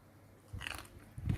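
Fried fish eaten with sticky rice, two short close crunchy bites in near silence.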